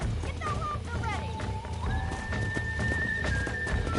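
Horses in the Red Dead western video game neigh and whinny with a clattering gallop, loud and close amid a busy game soundscape with a sustained tone and shouting voices.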